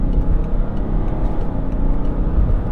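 A 2015-era BMW X5 F15 3.0d diesel SUV accelerates in sport mode to overtake cyclists, a steady, loud engine drone with road rumble heard from inside the cabin.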